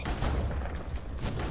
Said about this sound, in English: he's shooting fireballs